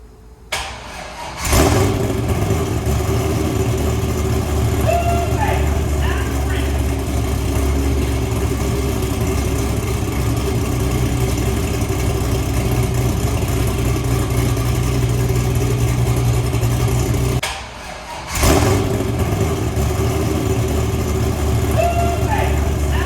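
A 1951 Chevy engine cranks and catches, settling into a steady loud idle with revving, then briefly cuts out and restarts, running close and continuous.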